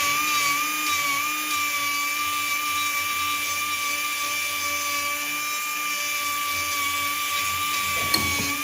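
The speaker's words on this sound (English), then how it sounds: "with a little bit of grinder work and a little bit of deep burring, this filter now has a really nice press fit into this top panel" A grinder deburring a metal filter for a press fit into a top panel gives a continuous high-pitched whine with a steady tone throughout, ending with a small click.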